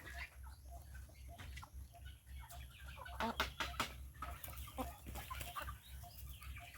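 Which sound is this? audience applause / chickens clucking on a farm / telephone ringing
chickens clucking on a farm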